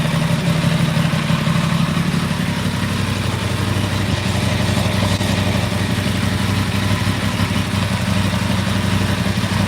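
A motorcycle engine runs loud and close, holding a steady rough drone throughout with no clear peaks.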